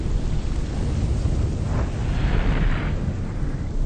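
Propane tank bursting into flames after being shot, a loud sustained roaring rush of fire with a deep rumble that swells midway.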